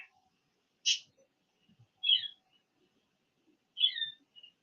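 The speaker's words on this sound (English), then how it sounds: "He likes to sing in the mornings." A pet budgie chirps in the morning, three short bright calls spaced about a second apart against near silence, close and clear.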